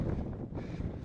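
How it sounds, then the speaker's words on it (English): Strong wind gusts roar steadily across the microphone while hiking down off Hope Pass in the Colorado mountains, a continuous loud rushing buffeting with no other sounds. "Still really windy."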